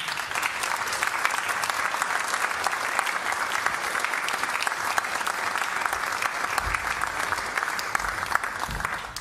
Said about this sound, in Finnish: ei muuta kuin lämpimät aplodit, Jari Kepa Kettunen.